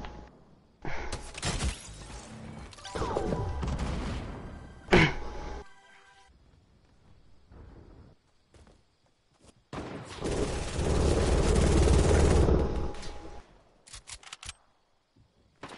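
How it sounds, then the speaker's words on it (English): Gunfire in a shooter video game: sharp bursts of shots crack out near the start, then a long, loud stretch of dense firing and rumble midway, ending in scattered pops. "I'm getting shot at from somewhere"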